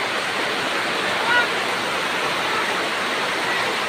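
Steady, dense rain pours down outdoors on a wet day at home, a continuous hiss with no gaps or distinct drops standing out.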